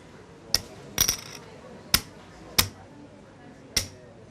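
Poker chips shoved forward for an all-in during a poker game, making five sharp clacks spaced irregularly across a few seconds, close and fairly loud over a faint background.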